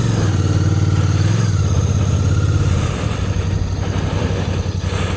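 A Royal Enfield Bear motorcycle engine drones loud and close while riding through a valley, a steady pulsing thump whose pitch shifts and drops partway through as the rider changes speed.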